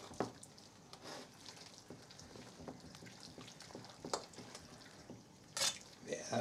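Food stirred and mixed in a pan while cooking, with soft sizzling and scraping, wet clicks and bumps, close and fairly quiet, with voices murmuring in the background.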